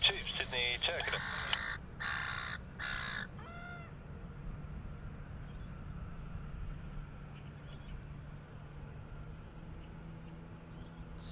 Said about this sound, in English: Seagulls got angry at a pigeon that walked past.